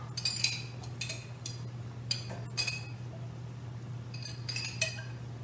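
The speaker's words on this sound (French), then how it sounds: "On va les ajouter directement dans la casserole." Olives drop into a metal saucepan with several light clinks and rattles in brief clusters, over a steady low hum.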